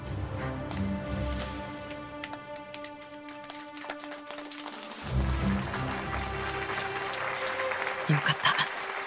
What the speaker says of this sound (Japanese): 一部の貴族以外はちゃんと拍手してるね